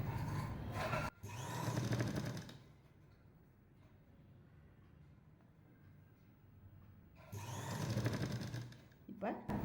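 A sewing machine stitches a lined jacket in two loud bursts of rapid, rhythmic needle clatter, one at the start and one near the end, separated by a quieter pause with faint background noise.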